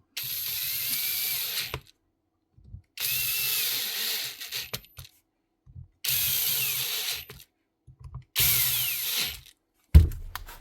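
A Bosch GWS9-115S angle grinder with newly fitted gears spins up in four loud bursts of a couple of seconds each, separated by silence, ending with a sharp clunk.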